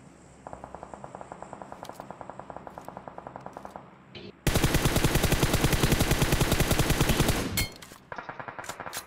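Rapid automatic gunfire in the BGMI battle royale game, first a steady moderate burst of evenly spaced shots, then a louder, denser sustained spray for several seconds before returning to lighter rhythmic firing.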